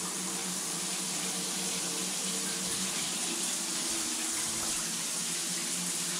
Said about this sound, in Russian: О, побежала вода.